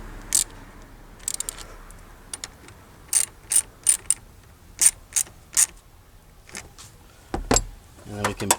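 A wrench ratchets in short, sharp clicking bursts while battery cable bolts are tightened on a 2007 Honda Odyssey, the bursts separated by quiet gaps, close by, with a brief low knock near the end.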